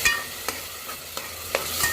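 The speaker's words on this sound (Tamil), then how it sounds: "இது நல்லா ஒரு 15 நிமிஷம் வர வரைக்கும் நல்லா வதக்கிக்கலாம்" Ground masala paste is sautéed in a pan with a low sizzle, and a spoon scrapes and stirs it in sharp strokes spaced about half a second apart.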